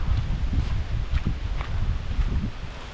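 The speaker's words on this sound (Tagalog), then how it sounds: "Pagkalakas naman po ng hangin" Strong outdoor wind buffets the microphone with a low, rumbling roar. It swells and eases unevenly for a few seconds, and nobody speaks.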